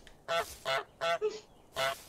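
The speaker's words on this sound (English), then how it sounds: "Press X to honk." Four loud, nasal goose honks in quick succession, the last after a short pause, sounding like a game sound effect from Untitled Goose Game.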